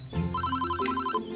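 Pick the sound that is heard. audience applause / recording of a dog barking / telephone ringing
telephone ringing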